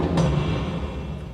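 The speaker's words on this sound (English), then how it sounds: "So this is what this sounds like. It's called cinematic percussion." A cinematic percussion sample: a single deep, booming hit with a short sharp attack that rings out and fades over about a second.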